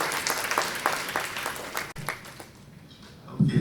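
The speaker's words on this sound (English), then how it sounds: "Round of applause, please." Audience claps at the close of a FutureCFO fireside chat on inflation, scattered claps thinning into sparse patter and fading, with a voice briefly heard at the end.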